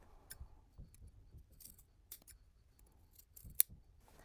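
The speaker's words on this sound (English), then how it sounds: "I'm also going to trim along the angled part of the seam" Scissors snipping along an angled fabric seam on a drawstring gift tote, several quiet close cuts spaced irregularly, with one sharper snip near the end and no talk.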